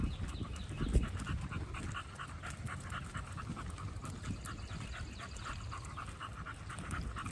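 A dog pants rapidly and rhythmically close by during a nature walk in a park, a steady run of quick breaths over faint outdoor background noise.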